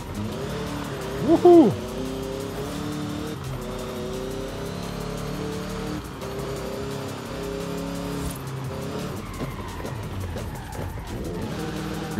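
Several cars drive and rev in Forza Horizon 5, an open-world racing game. Steady engine drone runs throughout with a brief loud burst early on, and a voice gives a short cheer.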